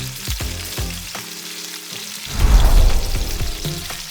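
Steaks sear on a hot R.W. Flame four-burner 304 stainless steel propane gas grill, a loud crackling sizzle swelling midway between quieter stretches of low humming tone, with no talking.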